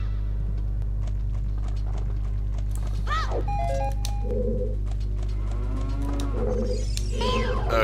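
A cow mooing in Zelda Ocarina of Time Master Quest, several low, drawn-out game moos over a constant droning hum, alongside pitched chimes and cooing sounds.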